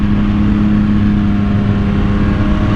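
A Cadillac cruises slowly through a residential neighborhood, its engine giving a steady, close, continuous hum with a low drone and no voices over it.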